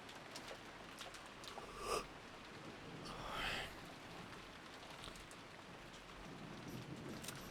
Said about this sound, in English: we get like ASMR rain for the break